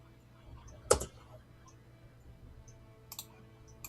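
Mouse clicking on a token in a virtual tabletop game, one sharp close click followed later by a quicker pair of lighter clicks, with quiet room noise between.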